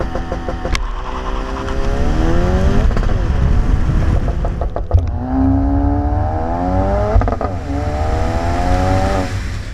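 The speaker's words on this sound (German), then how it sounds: "Wenn man dann voll durchstartet, wird die Kraft wirklich sehr gut auf die Straße übertragen, man wird ordentlich in die Sitze gedrückt." A 2016 Ford Focus RS, 350 PS, accelerates hard at full throttle in repeated launches, its engine loudly rising in pitch through the gears with brief dips at each shift, close and steady throughout.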